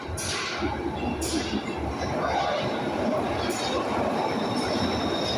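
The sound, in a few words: Glasgow Subway outer circle train arriving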